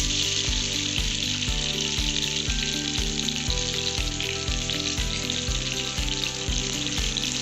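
Chopped tomatoes sizzle steadily in a hot pan, a loud continuous frying hiss with bubbling crackle throughout and no voices.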